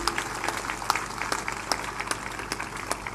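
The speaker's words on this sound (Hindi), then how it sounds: "ताली बजाइए उनके लिए।" Audience at a religious discourse gathering clapping for an arriving guest, a steady patter of many hands at moderate distance with faint crackle, no voices over it.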